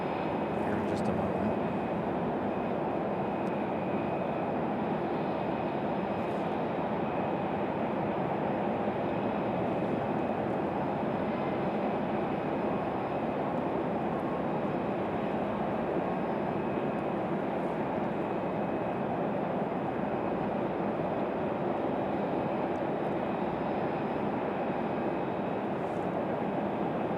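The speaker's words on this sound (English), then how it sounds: "So a surprise arrival here for our A220." An Airbus A220 airliner arrives at Raleigh-Durham International Airport, a steady broad engine roar lasting throughout with no clear rise or fall, while a person talks over it.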